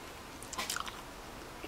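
Close, quiet crunchy bites and chewing of a fresh, fibrous roselle seed pod, a short cluster of crisp crunches in the middle, then near silence.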